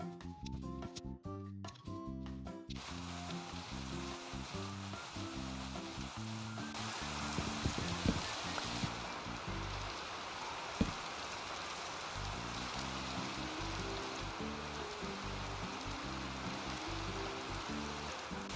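Steady hissing rain falls in the Minecraft video game, a continuous wash of noise across the whole stretch, layered over rhythmic music or game tones.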